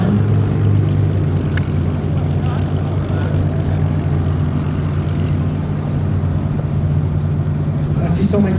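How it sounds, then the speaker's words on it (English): An Avro Lancaster bomber with four Merlin engines landing at a memorial flight event, a loud, continuous propeller-engine drone throughout, with someone talking over it. "Assistons maintenant à l'atterrissage du géant Lancaster avec ses 4 moteurs Merlin."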